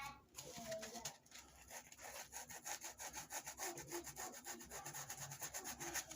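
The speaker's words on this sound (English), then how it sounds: "Now I'm going to kind of take the sandpaper" Sandpaper rubs over scuff marks on a pair of Prada sneakers in a quick rhythmic back-and-forth scratching, faint and close, steady strokes accelerating into a fast regular pattern.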